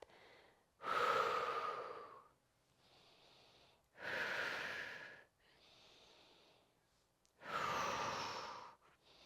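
Slow, audible exhalations during a prenatal upper-body and core exercise routine, three long breathy outbreaths at steady intervals with softer inhales between, close and fairly quiet, no speech.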